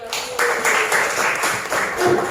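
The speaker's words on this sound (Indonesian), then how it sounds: "Oke, kasih aplaus." A classroom audience applauds together in a short, steady burst of clapping that holds at an even level throughout.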